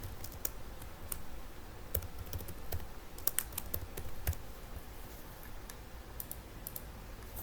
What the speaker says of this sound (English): The next one here, we're going to type in that silver dollar.